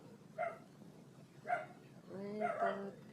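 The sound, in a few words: dogs barking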